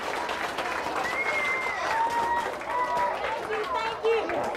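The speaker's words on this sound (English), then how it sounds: "can y'all clap for her?" Applause from an audience of children and adults after a dinosaur talk at a library, a moderate, steady patter of clapping with excited voices and chatter over it throughout.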